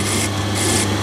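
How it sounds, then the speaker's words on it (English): A hand file rasps across the end of a steel part to deburr it in a machine shop, a close, loud, steady scraping stroke with a brief pause between two passes. "Just deburr the end"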